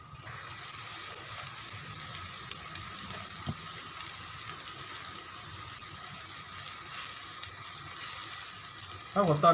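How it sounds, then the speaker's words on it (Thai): Water comes to a rolling boil in a pot before pork goes in to blanch, a steady bubbling hiss that holds evenly throughout, with a brief clatter near the end. "น้ำก็เดือดแล้วนะครับ"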